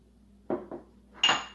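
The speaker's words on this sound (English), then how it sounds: "To start, whisk the flour," A whisk stirs flour in a baking bowl, giving three quick, distinct clinks: two soft knocks close together, then a brighter ringing tap.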